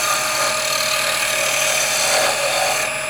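A wood spindle is cut backwards on a lathe, giving a loud, continuous hissing whir of the tool against the spinning wood, steady and close throughout.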